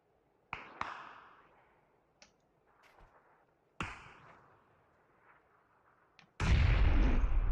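Gunfire and a grenade explosion in PUBG: scattered sharp single shots and reports with fading tails, then a loud sustained blast near the end, with no talking.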